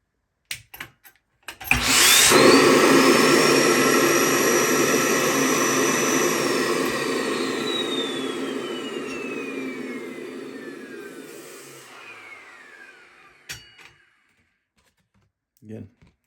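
A vacuum forming machine used to make window pieces for a 1973 Chevelle Laguna runs for about ten seconds, a loud steady roar with a gliding whine that gradually fades, then a few clicks.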